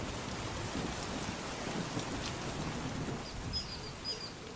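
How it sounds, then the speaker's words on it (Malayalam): Steady rain pours down, a dense even hiss with faint patters and no voices. "മഴ ഇങ്ങനെ തുടങ്ങി"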